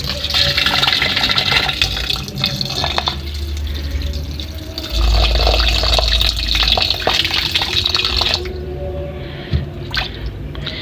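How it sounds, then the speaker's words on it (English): Water pours from a tap into a sufuria pot of washed meat for boiling, a steady close splashing and gushing stream that shifts in pitch as the pot fills, then tails off into drips. "Then we add in water for boiling."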